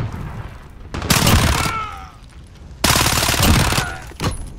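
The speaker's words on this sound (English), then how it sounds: "Allied cruise missile away." Heavy explosions and rapid gunfire from a Call of Duty: Modern Warfare match, including an allied cruise missile strike, arrive as two loud, dense bursts of booming and rattling shots with brief lulls between.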